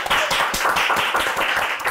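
A short burst of brisk, rapid hand clapping, close and fairly loud, with a few people applauding together.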